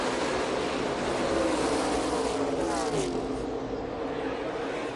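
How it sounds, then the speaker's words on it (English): NASCAR Cup Series race cars at Talladega Superspeedway roar in a continuous, dense wall of engine noise as the pack accelerates through the gears after a restart, loud and sustained with a slight swell and fade. "Back through the restart zone, back through the gears they go."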